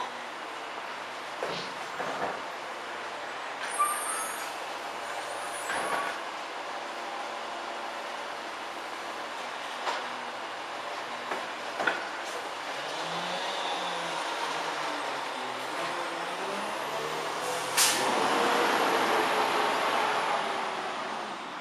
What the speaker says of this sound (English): Let me get my brake cleaner so I can clean this off before I put it back.